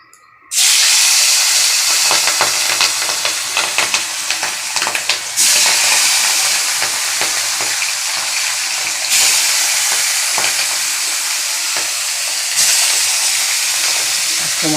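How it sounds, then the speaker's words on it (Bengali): Fish pieces fry one by one in hot oil, starting with a sudden loud burst of sizzling that holds as a dense, steady crackling hiss close by for many seconds. "ভেজে নিই এক এক করে মাছগুলো।"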